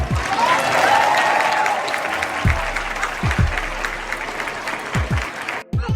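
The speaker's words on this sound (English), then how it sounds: "give a round of applause for that dream you had" Applause from a church congregation standing during a Q&A, a broad wash of clapping that carries on at moderate level with a few low thumps and some voices mixed in.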